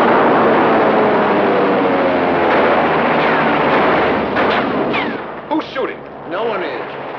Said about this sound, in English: That's a recorded soundtrack from a movie studio right out of the sands of Iwo Jima.